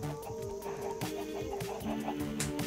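Chickens in the Minecraft video game, repeated short clucks overlapping in a busy, steady flock chatter at moderate loudness.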